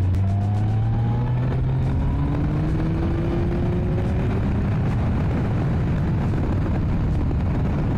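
A Kawasaki ZZR1400 motorcycle overtaking a camper van on a country road, its engine loud and close, rising in pitch through the gears as it accelerates, with heavy wind roar throughout.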